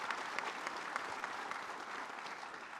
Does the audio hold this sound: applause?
yes